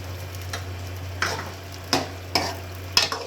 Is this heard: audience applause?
no